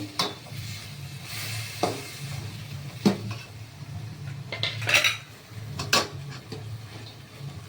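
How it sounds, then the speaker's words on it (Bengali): Cashews and raisins being stirred into homemade fried rice in a pan, with repeated close metal clinks and scrapes of a utensil against the pan over a low steady sizzle and background hum. "এবারে কাজু কিশমিশগুলো দিয়ে দিলাম একটু নেড়ে নিচ্ছি"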